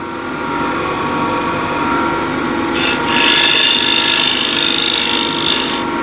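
A bowl gouge shears the inside of a wooden bowl spinning on a lathe, producing a loud, continuous rasping hiss over the steady hum of the machine, with the cut growing brighter midway.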